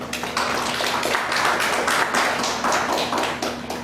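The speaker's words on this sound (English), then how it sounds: "A round of applause, ladies and gentlemen." A conference audience at a women chartered accountants' inaugural session bursts into dense, steady applause that lasts several seconds, with a faint electrical hum underneath.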